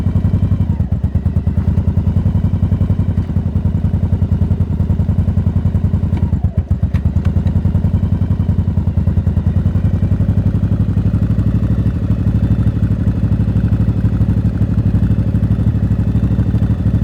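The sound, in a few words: motorcycle engine idling a bit high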